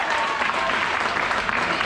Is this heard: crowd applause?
yes